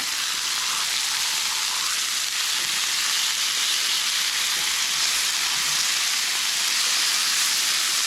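Food searing in oil in a pot, a steady loud broadband sizzle that holds evenly throughout with no pauses, close and continuous, with no talking.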